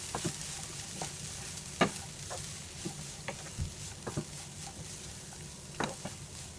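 Shredded cabbage for a Kerala thoran is stirred in a frying pan, with soft steady sizzling and scattered light clicks and scrapes of a spoon against the pan.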